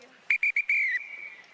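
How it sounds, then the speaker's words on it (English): A referee blows the full-time whistle at a women's rugby match between Bay Breakers and Chicago Tempest: three short sharp blasts, then one long shrill blast. It is loud and close over faint crowd noise. "that secret full-time third whistle"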